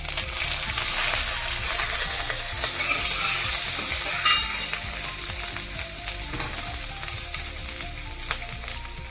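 A tadka of cumin, curry leaves, coriander and green chili sizzles loudly in hot oil, a dense continuous crackle and hiss with occasional stirring clinks, close up and without speech.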